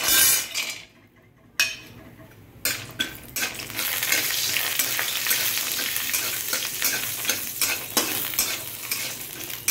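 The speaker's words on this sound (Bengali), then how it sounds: "এখানে আমি শাক চচ্চড়ির জন্য বড়ি ভাজবো" Bori lentil dumplings fry in hot oil for a greens chorchori, a steady close sizzle that starts after a short quiet gap and runs on with stirring scrapes and light metal clinks.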